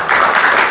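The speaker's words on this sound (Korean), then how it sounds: "박수 한번 치겠습니다." An audience applauds at a Korean lecture and ceremony, honoring the local-government officials from eight cities who have stood up; steady, dense clapping fills the room for a brief moment without any talk.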